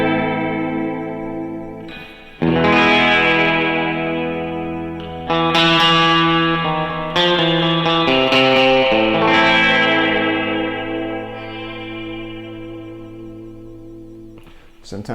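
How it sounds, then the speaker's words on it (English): Surf-style electric guitar drenched in spring reverb, with phrases ending in a whammy-bar pitch dip and long echoing trails; loud, melodic, repeated note bursts played alone with no talking. "that reverb trail in conjunction with that whammy bar dip just gives you just such a cool sound"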